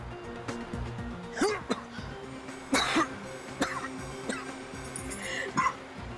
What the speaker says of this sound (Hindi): जो लोग ज्यादा झूठ बोलते हैं ना उन्हें ऐसे ही खांसी आती है